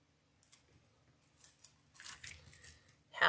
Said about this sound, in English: Oh, I need to turn my zip tie around.